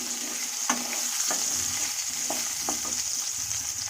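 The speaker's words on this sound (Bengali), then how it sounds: "এবার আলুগুলো একটু নাড়াচাড়া হয়ে যাবে" Potatoes fry and sizzle in a pan for a cabbage dish, stirred with a utensil that scrapes and clacks against the pan in irregular strokes over a steady hiss.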